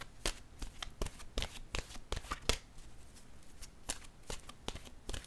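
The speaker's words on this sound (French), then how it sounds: "Allons-y avec une carte de mon oracle de l'âme intuitive." A deck of oracle cards is shuffled by hand, a quick irregular run of soft papery slaps and riffles, close and quiet, with no talking over it.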